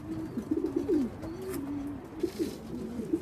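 Pigeons returning home to their loft give soft, repeated cooing calls close by, with a steady low murmur of coos and a few brief wing or handling noises, no talking.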